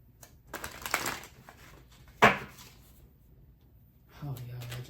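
Tarot cards being shuffled by hand in a few soft riffling bursts, including one sharper snap, alongside a voice talking.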